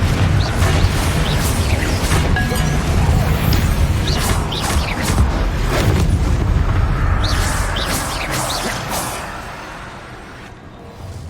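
Spell explosions from the Confringo fire curse in Hogwarts Legacy, a string of loud booming blasts and crashes over rumbling game combat that tails off quieter near the end.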